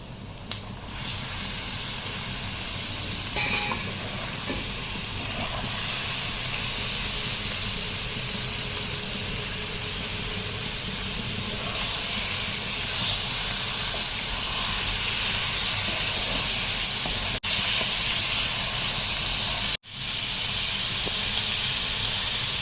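Fish is frying in hot coconut oil with ginger and garlic, a steady loud sizzle and hiss running throughout with a brief dip near the end.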